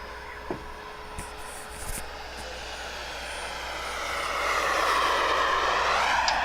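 Remote control model jet, a T-33 in a flight club, roaring steadily overhead with a rising whine that swells louder toward the end of the pass.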